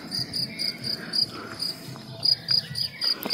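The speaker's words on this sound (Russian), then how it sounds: "И сверчки." Crickets chirp steadily outdoors near a Czech castle, a rhythmic run of short, high, fairly faint pulses repeating over low background ambience, with no voices.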